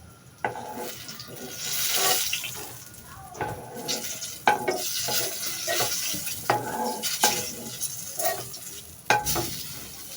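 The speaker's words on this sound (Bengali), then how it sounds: "তেলগুলো গরম করে নিলাম এবারে তেলের ভিতরে পেঁয়াজ ছেড়ে দিয়েছি" Chopped onions drop into hot oil in a pan used just before for browning eggplant, giving a busy sizzle with scattered sharp clinks and stirring scrapes, fairly close and steady throughout.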